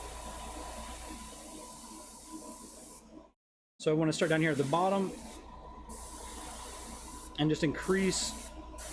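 Airbrush hissing steadily as it sprays paint onto a Star Wars: Legion LAAT/le miniature, a continuous airy spray broken by a brief pause, with someone talking over it.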